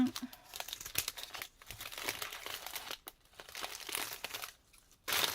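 Scissors snip through paper in quick, close bursts between short pauses while decorating small handmade Easter baskets.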